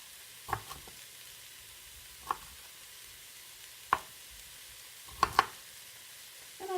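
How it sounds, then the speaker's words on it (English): A soft, steady sizzle of vegetables stir-frying in a pan, broken by a few sharp knife taps on a board as vegetables are chopped. "I'm just chopping these up,"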